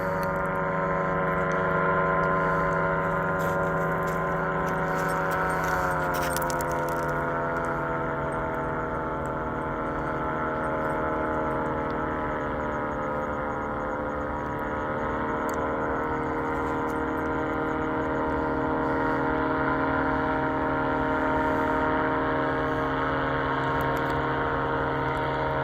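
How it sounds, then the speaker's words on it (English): A small powered paraglider engine drones steadily overhead at sunset, its hum loud and continuous for the whole stretch, rising slightly and easing as it passes. "Little paraglider."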